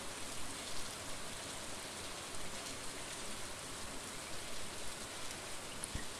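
Steady rainfall in the farming game Stardew Valley, a constant soft hiss of drops with no pauses, faint and even throughout.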